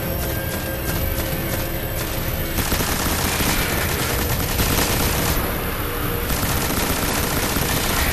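Rapid-fire heavy weapon in the Destiny video game, a dense continuous burst of automatic gunfire at steady loudness across the whole stretch, with no talk over it.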